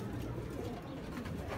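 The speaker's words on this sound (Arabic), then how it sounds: "اتفرج بقى الحمام ده." Many racing pigeons in a loft in Damietta, Egypt, cooing as a dense, continuous low murmur with no talk over it.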